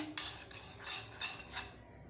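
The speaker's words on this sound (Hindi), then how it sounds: "और इसके अंदर वन टेबल स्पून हमने इसमें बेसन मिक्स किया और हम इसको अच्छी तरह मिक्स कर लेंगे।" Chickpea flour (besan) stirred into chana chaat with water, a spoon scraping and rubbing against a metal pot in soft, repeated strokes, quiet and close.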